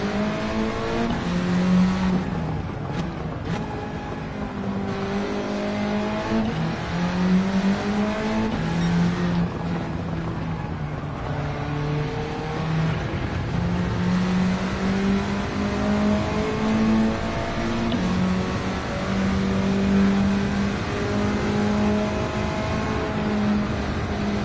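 A Honda Type R with a K20 engine swap in Gran Turismo 7 drones steadily throughout, its engine pitch rising and falling through revs and gear changes, loud and close with no talking.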